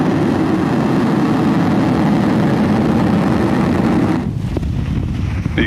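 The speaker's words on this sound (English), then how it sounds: "Ignition. And liftoff of Falcon 9." A SpaceX Falcon 9 rocket lifting off from SLC-4E at Vandenberg produces a loud, continuous low rumbling roar with buffeting, wind-like crackle that eases slightly near the end, with no voices.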